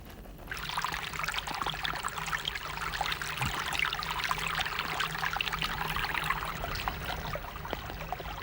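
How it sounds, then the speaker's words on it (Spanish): Rainwater runs down a rocky ravine in a valley on the Canary Islands in a steady, rushing torrent. The flow starts after a brief quiet moment and then keeps up a constant splashing wash, with no one speaking. "El agua marcha barranco abajo en libertad."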